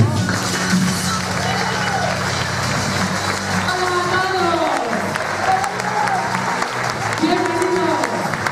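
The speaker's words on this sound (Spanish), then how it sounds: "Recibamos con un fuerte aplauso a Daniel Sanfiel." Loud audience applause greets a guest on a Christmas television special, continuous clapping mixed with voices and music-like tones throughout.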